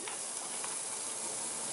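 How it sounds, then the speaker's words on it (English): A steady broadband hiss of burgers sizzling on a hot barbecue grill continues throughout, with soft crackles popping here and there. "I hear it sizzling."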